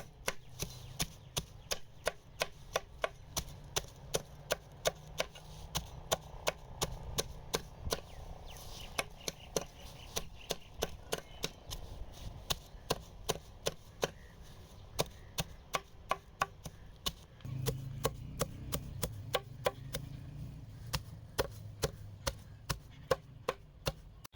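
Weeds are chopped into small pieces with rapid, regular blade strikes on a cutting surface, dozens of crisp close knocks in a steady rhythm, with a slightly heavier stretch near the end and no talking.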